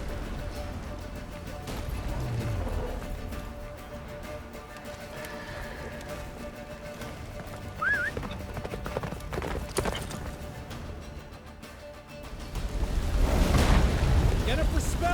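The horse Roach gallops in The Witcher 3: Wild Hunt, a fast continuous drum of hooves under wind and battle rumble in a snowy chase, with voices calling out over it.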